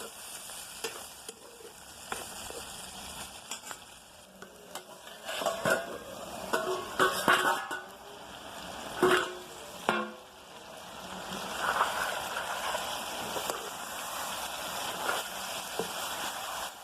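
Mutton and onions sizzle softly in a pan while a spoon stirs them, with scattered scrapes and clinks against the metal standing out over a steady, quiet frying hiss.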